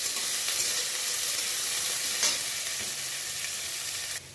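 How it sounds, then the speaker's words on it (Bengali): Chopped onion and garlic sizzle loudly and evenly in hot oil in a pan, a steady close hiss with light stirring that cuts off just before the end. "পেঁয়াজ আর রসুনটাকে এভাবে আমি এখন ভাজা ভাজা করে নেব"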